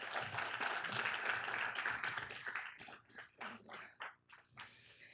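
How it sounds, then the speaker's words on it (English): Audience applause at a city council meeting in Downey, a dense burst of clapping that thins out after a few seconds into scattered claps with faint voices beneath. "Give him a round of applause, please."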